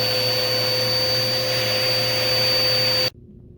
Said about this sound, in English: It'll help your vacuum do a much better job at sucking.